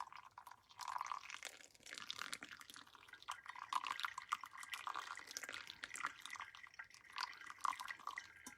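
Water trickles from a tilted kettle into a V60 coffee dripper, a faint, close, uneven pour with small splashing drips and no talk.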